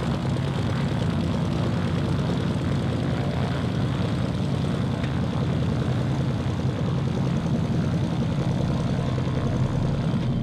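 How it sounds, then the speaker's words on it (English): A propeller airplane drones overhead in the Sierra Tarahumara, a loud, steady engine roar that holds for the whole stretch without fading, with no talk over it. "Airplane."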